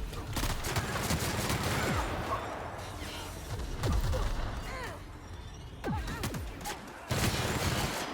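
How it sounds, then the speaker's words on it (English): Rapid bursts of light machine gun fire from the sci-fi shooter The Outer Worlds, with loud chattering volleys and sharp shots layered with whooshes and impacts in a busy firefight, pausing briefly between barrages. "let's switch back to the light machine gun."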